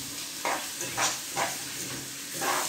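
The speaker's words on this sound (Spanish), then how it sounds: "Lo voy a sofreír como por unos 5 minutos." Rice sautés in a pan with cumin and adobo, giving a continuous close sizzle broken by three or four brief scraping stirs, with no talk.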